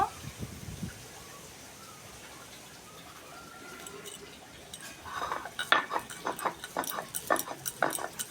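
Soaked rice ground by hand on a shil-nora grinding stone: after a quiet stretch, a run of rhythmic, close scraping and knocking strokes begins and continues to the end.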